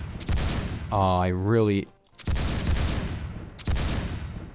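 FAL rifle gunfire in the Roblox video game Phantom Forces: three sharp, loud shot bursts with quick decaying tails, spaced about a second apart, with someone talking briefly between the first two.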